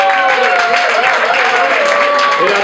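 Crowd applause at a tango bar, dense continuous clapping from an audience, loud and close, with a voice talking over it throughout.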